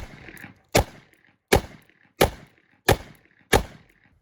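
Taurus Raging Judge revolver firing 3-inch .410 shells: five loud, sharp shots spaced evenly about two-thirds of a second apart, each with a short echoing tail.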